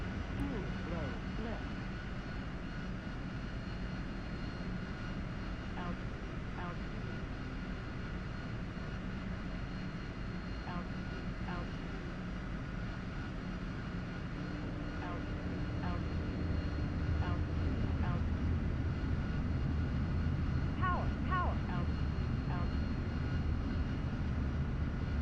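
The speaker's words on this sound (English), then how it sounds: "it's probably my nicest touchdown in a Harrier on a conventional landing" A Harrier jet in a flight simulator game, on final approach for a conventional landing. Its engine drones steadily and close throughout, swelling louder in the final third, with faint clicks over the top.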